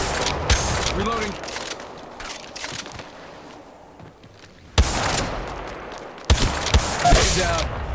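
Bursts of gunfire from the mobile battle royale game Apex Legends Mobile, played in a sniper and shotgun mode, with several loud volleys separated by quieter stretches and a voice calling out over the game sounds.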